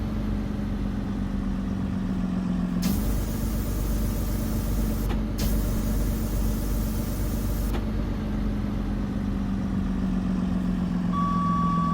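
A 2027 Thomas Saf-T-Liner C2 school bus in the Rigs of Rods driving simulator idles loudly in reverse, its engine drone steady throughout while electronic backup beeps sound over it; a steady tone enters near the end.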